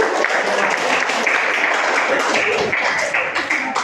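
Students applaud in a classroom during an Islamic religious education lesson in Indonesia: steady, dense clapping that fills the whole stretch at close range, with a few voices mixed in.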